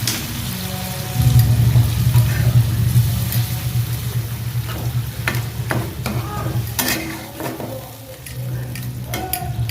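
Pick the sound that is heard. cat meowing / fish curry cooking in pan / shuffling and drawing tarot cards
fish curry cooking in pan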